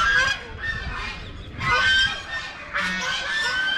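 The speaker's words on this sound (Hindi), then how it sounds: "ये हंस बतख घूम रहे हैं" Geese and ducks in a park below a temple, several loud nasal honks in overlapping bursts, close by and fairly continuous.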